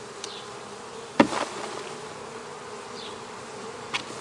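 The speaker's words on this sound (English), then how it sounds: "Just going to knock these bees off of here." Steady low buzzing from many honey bees, with a couple of sharp knocks and thumps as bees are knocked off honey frames.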